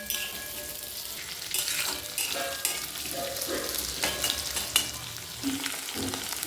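Onion and ginger-garlic paste frying in a hot pan, a dense continuous sizzle with intermittent scraping and stirring strokes, close and fairly loud, with no talking.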